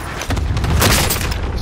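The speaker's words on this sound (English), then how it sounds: "Cluster strike." Cluster strike explosions in a video game rumble as a brief, dense barrage of booms, heavy and sustained without clear gaps, with no talk over them.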